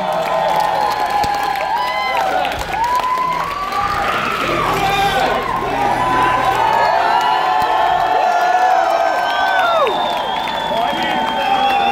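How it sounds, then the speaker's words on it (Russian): Party crowd at a sixteenth birthday celebration cheering, whooping and clapping loudly and continuously, a dense roar of voices and applause filling the whole stretch without a pause. "Вот аплодисменты людям"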